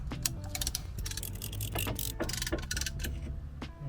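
A brake caliper piston on a 2018 Seat Ibiza FR or VW Golf is pushed back with a compression tool, making a close series of quiet ratcheting clicks and metallic creaks in an irregular rhythm.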